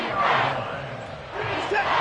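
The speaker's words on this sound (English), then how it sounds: "This crowd doing all they can." Football stadium crowd roaring loudly during a tense third-and-goal moment, a dense sustained cheer that swells again near the end with scattered shouts.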